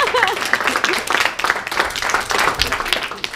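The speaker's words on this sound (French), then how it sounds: "Allez, on l'applaudit" Audience at a magician's show in a hotel applauds a child volunteer, a dense burst of many hands clapping close by for several seconds, with voices and cheers mixed in.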